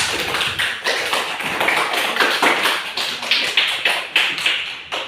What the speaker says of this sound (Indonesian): Aplaus buat kelompok 3.